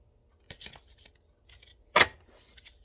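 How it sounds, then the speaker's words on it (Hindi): Tarot cards shuffled by hand in short, papery bursts, a light flutter near the start and a sharper, louder riffle about two-thirds through, with quiet pauses between and no talk. "मैं आप लोगों के सामने शफल कर रही हूँ"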